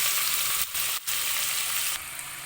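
Steady, loud sizzling of onions frying in a pan, with a couple of brief dips as they're stirred.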